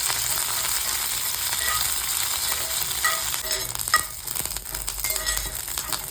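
Bitter gourd and curry leaves frying crisp in oil, producing a continuous close sizzle with intermittent stirring clatter toward the end, no voices present.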